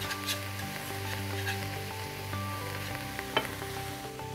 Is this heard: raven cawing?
no